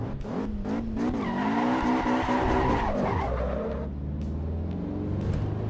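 Classic 190 car driven in the Assetto Corsa Evo racing game, engine revving and climbing through gears with tires squealing and skidding, then dropping to a lower drone; close and loud, no talk.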